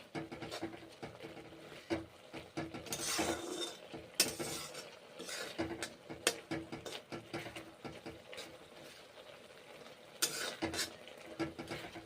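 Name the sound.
cooking Maggi noodles in a pot with pepper powder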